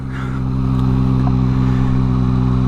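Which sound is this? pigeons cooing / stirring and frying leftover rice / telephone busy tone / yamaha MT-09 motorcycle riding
yamaha MT-09 motorcycle riding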